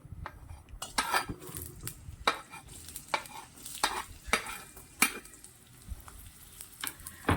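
Onion frying in oil in a pan for a sesame vegetable curry, stirred with a utensil that scrapes and clinks against the metal in regular strokes over a soft, steady sizzle.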